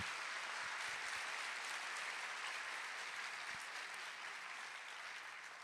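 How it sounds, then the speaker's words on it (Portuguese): A church audience gives the ministry team a round of applause: continuous, even clapping from many hands, fairly distant and soft, sustained throughout and tapering slightly at the end. "Uma salva de palmas, por favor, essa equipe maravilhosa"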